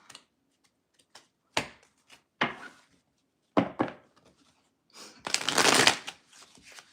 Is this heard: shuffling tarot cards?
yes